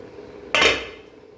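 A metal pot lid lifts off a pot of cooking jackfruit with one sudden bright metallic clank that rings briefly and fades, close and clear over a faint background hum.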